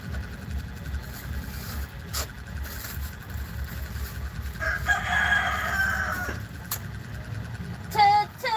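A rooster crows once in the middle, moderately loud and fairly near, over a background of steady engine or traffic rumble, with a brief higher squawk near the end.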